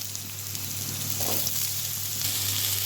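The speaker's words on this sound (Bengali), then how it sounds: "তার মধ্যেই আমি আলুগুলো দিয়ে আলুগুলো ভালো করে ভেজে নিচ্ছি" Potatoes frying in leftover fish-frying oil, a soft continuous sizzle with faint stirring, close and low in level, no talking.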